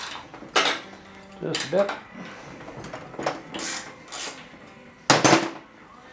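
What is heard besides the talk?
loosening a 7/16 SAE bolt on a Datsun frame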